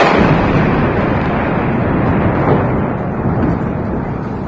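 A loud, sustained roaring blast of broadband noise from a bomb explosion near a stadium in Beşiktaş, Istanbul, like the rolling aftermath of an explosion, slowly fading over several seconds.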